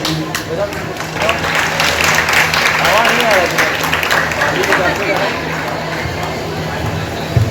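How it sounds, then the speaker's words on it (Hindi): A large audience at a school science fair play applauds continuously, loud and sustained, with cheering and voices mixed into the clapping throughout. "ताली बजाते रहिए"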